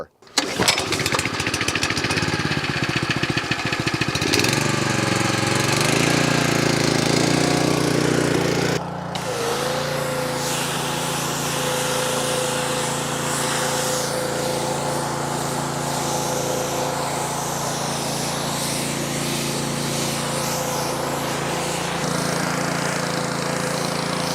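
A pressure washer sprays water over a Polaris side-by-side vehicle, with a loud, steady motor drone and hiss throughout, a brief change in pitch near the start, then the engine running on evenly.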